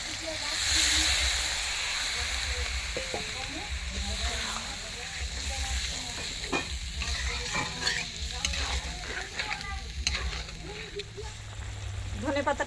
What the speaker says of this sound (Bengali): চিনি দিয়ে দেবো দিয়ে ভালো করে নেড়ে চেড়ে জল ঢেলে দেবো